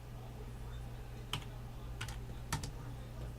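A few quick bursts of typing on a computer keyboard, with one keystroke, then a short pair and then another pair of clicks, over a steady low hum while someone writes code.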